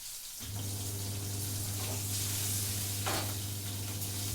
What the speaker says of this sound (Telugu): ఇప్పుడు దాంట్లోనే కొంచెం ఈ తాలింపులో కొంచెం ఇంగువ వేసేద్దామండి